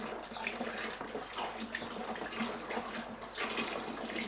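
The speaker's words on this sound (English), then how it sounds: "I'll pour this smells in. like baby's apple puree. Baby's apple puree. Look at that. I'll stir as you're pouring." Thick homemade apple puree pours into a container for cider while being stirred, giving a steady close wet rushing and sloshing that runs continuously throughout.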